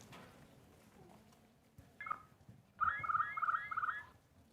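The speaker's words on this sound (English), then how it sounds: "So this is a slowed down audio snippet of a wood thrush" A wood thrush call, slowed down, comes in two parts: a short faint phrase, then a longer, louder warbling run of fluttering tones over quiet background hiss.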